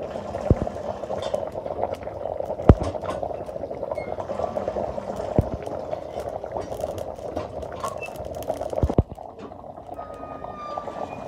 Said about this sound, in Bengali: তোমার মাংস কষানো হয়ে গেছে, আমি জল দিয়ে দিব।